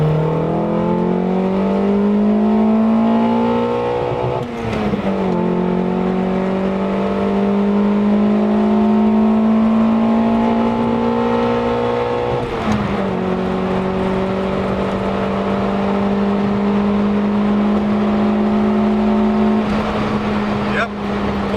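A Nissan Sentra 200SX with an SR20DE engine accelerates hard in second gear, its engine note rising steadily in pitch, heard from inside the car with brief dips at each throttle change and occasional talk.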